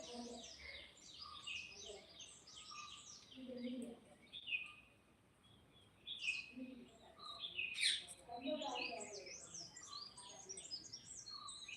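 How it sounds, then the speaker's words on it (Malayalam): Many small birds chirp and tweet continuously from a mango tree in Wayanad, layered high calls overlapping, with a louder burst of calls partway through and faint background rustle. "കേട്ടോ കിളികളെ ശബ്ദം"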